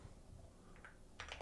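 Keystrokes on a computer keyboard during website building, a few faint clicks in a quiet room, with a short burst of taps near the end.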